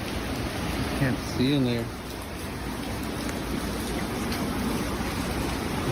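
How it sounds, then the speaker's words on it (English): Heavy rain falls steadily outdoors as a dense, hissing wash of noise throughout, with a person speaking briefly over it near the start. "That's a lot of rain though."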